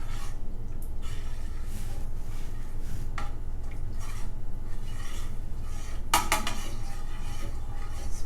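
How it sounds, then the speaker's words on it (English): A utensil stirs fat bomb ingredients in a bowl, scraping and clinking steadily against the sides with a few sharper knocks, close and alone. "Especially with the stirring."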